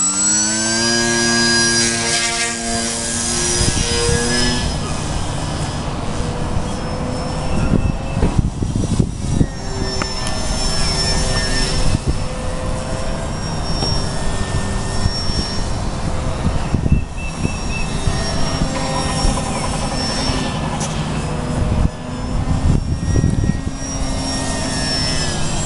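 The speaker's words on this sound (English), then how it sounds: "What we have here is a Delta Wing twin engine push prop Flite-Test." A Flite-Test Delta Wing twin-engine push-prop RC plane, capable of 100 mph, flies overhead with a continuous, loud, buzzing propeller whine whose pitch rises and falls as it passes and turns.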